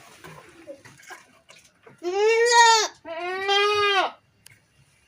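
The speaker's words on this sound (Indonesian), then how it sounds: "Ada kambing cemplay." Two drawn-out goat bleats, one after the other, loud and close, over faint background noise.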